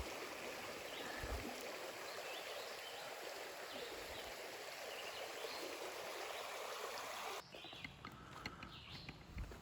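A creek flows steadily beside a woodland trail on State Game Land 72, a continuous broadband rush of running water heard up close that drops abruptly and grows quieter near the end.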